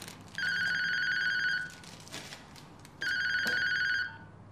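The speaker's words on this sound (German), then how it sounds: "Telefon." A telephone bell rings in two long bursts separated by a pause, bright and fairly loud, with faint room noise between the rings.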